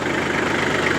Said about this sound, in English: you can hear my tractor running, but my PTO is not running